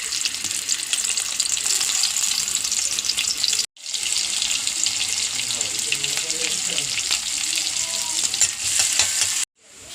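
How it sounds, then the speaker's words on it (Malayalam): Garlic and shallots fry in oil in a pan, a loud continuous hiss and sizzle broken by two brief gaps, with faint stirring scrapes mixed in. "ചീഞ്ചട്ടി വെച്ചു, എണ്ണ ഒഴിച്ചു, വെളുത്തുള്ളി ചുവന്നുള്ളി,"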